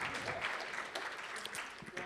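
Lecture audience applauds a guest at a university talk, quiet and somewhat distant, the scattered clapping rising and dipping slightly over two seconds.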